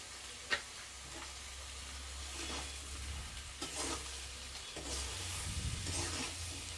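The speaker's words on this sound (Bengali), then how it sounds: "এগুলো আমি ভালো ভালোভাবে নাড়াচাড়া করে একসাথে সব কটা ভাজবো" Papaya, banana, drumstick and potato for sukta are stirred and fried together in a pan, giving a steady low sizzle with periodic scraping stirs and a few sharper clinks, no talking.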